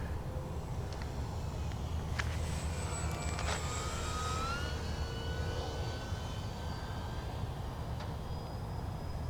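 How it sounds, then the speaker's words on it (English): Dynam P-51 Mustang V2 RC model warbird running on a 3S battery, its electric motor whine steady and sustained throughout, with rising and falling pitch as it passes overhead outdoors at moderate distance. "It's a very nice plane."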